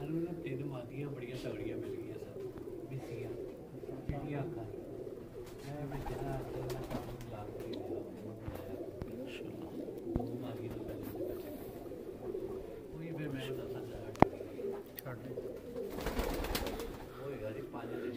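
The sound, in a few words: breeder pigeons cooing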